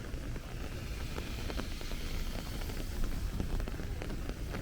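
Rain falls steadily on a street in Astoria, Queens, along Ditmars Boulevard, a dense even hiss of drops pattering on pavement with scattered sharper ticks and no voices.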